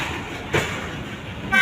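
A train rolls past on the other track during a rail journey from Sadiqabad, heard from inside a moving train. There is a steady rumbling wash, a brief clank in the middle, and a short horn toot rising at the end.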